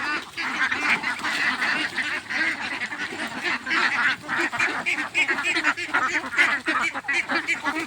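Ducks on a small farm quack and honk continuously during a morning bath, a dense, loud chorus of many birds close by with no talking.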